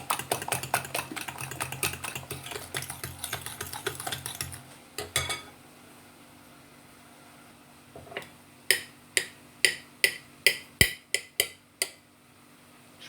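A knife chops hard-boiled eggs into small pieces on a cutting board for a Tunisian tajine, a fast run of dense close clicks followed after a pause by a slower series of sharp, distinct knocks.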